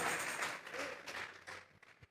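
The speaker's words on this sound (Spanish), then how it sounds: "Dele fuerte esas palmas al que vive" Church congregation clapping hands during a sermon, a dense, steady patter of applause filling the room for about two seconds before thinning out at the end.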